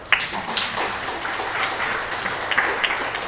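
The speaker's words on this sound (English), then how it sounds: "I want to applaud all of you for coming here today" An audience applauds at a talk: a dense, continuous wash of clapping holds steady throughout, with a few sharper individual claps standing out near the front.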